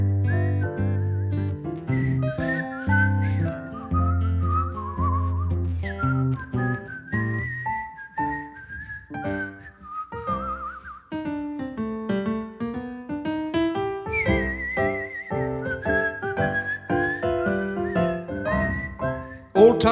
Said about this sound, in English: Okay, now we're gonna do a little whistle,